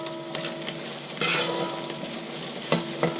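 Diced potatoes, cut, washed and dried, frying in oil in a pan while being stirred, with a steady sizzle and several scraping stirs that swell louder partway through, close by and without talk.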